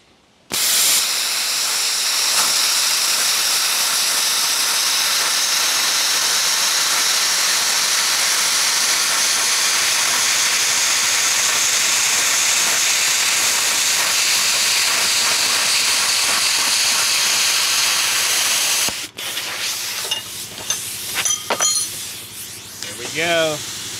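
A BestARC BTC500XP plasma cutter slices 1/8 inch, 11 gauge steel with a steady, loud hiss lasting about 19 seconds, then cuts out; an air compressor kicks on afterward with clinking and irregular mechanical noise.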